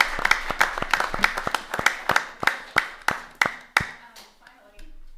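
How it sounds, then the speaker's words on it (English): A few people clap at a city council meeting, a short run of sharp, distinct claps close by that slows and thins out before stopping. "I think the Tree Commission needs also a round of applause."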